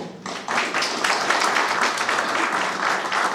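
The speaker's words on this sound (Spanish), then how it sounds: "recibimos a nuestro primer presentador con un fuerte aplauso, por favor." An audience at a university lecture on a proposed new Mexican constitution welcomes the first presenter with applause, a sustained, fairly loud wash of clapping that swells after a brief quieter start.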